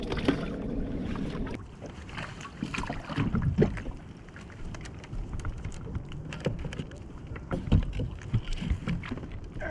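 A kayak moves on saltwater during a live bait fishing trip, with close paddle splashes, water lapping against the hull and knocks on the boat, uneven and fairly soft, with no talking.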